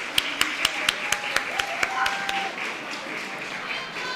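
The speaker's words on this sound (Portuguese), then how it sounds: "Vamos apresentar com uma salva de palmas o nosso" An audience gives a speaker a welcoming round of applause. It comes as sharp, evenly spaced claps in a quick steady rhythm that fade after a couple of seconds, with voices and room murmur underneath.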